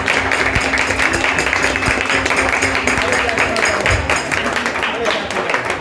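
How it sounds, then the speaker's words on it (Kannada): An audience claps for a bhajan group being honoured at a village felicitation in Toragarahalli, Alur taluk. The applause is steady and dense, a sustained patter of many hands at moderate loudness. "ಚಪ್ಪಾಳೆ ಚಪ್ಪಾಳೆ ಚಪ್ಪಾಳೆ."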